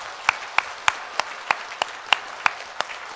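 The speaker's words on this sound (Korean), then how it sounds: "새해를 허락하신 하나님께 영광의 박수 올려드리겠습니다" A church congregation applauds during a New Year's Day Sunday worship service, with sharp, evenly spaced claps ringing out through the sanctuary at a steady rhythm.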